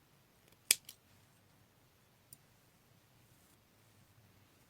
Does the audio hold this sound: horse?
no